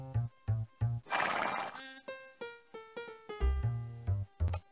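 A horse neighs close by in a long series of whinnies, with short rhythmic bursts, a loud breathy snort in the middle and more whinnies toward the end.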